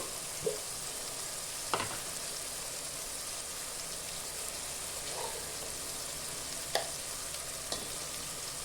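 Ginger paste frying in a pan while chicken biryani is being cooked, a quiet steady sizzle with a few sharp clinks of a spoon against the pan scattered through it.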